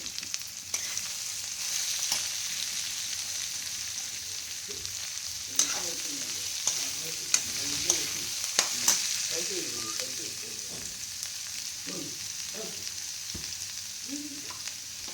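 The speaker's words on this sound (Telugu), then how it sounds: "బీట్రూట్ ముక్కలు, ఉల్లిపాయ ముక్కలు, పచ్చిమిరపకాయ ముక్కలు ఫ్రై అనమాట." Beetroot, onion and green chilli pieces with curry leaves frying in a pan, a steady close sizzle broken by the scrape and clatter of stirring at irregular intervals.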